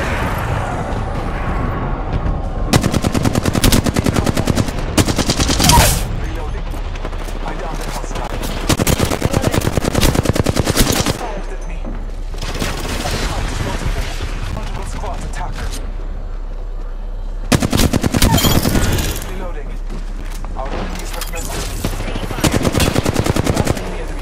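Bursts of rapid automatic gunfire from the Apex Legends video game rattle loudly in several long strings separated by short pauses, with booming impacts mixed in.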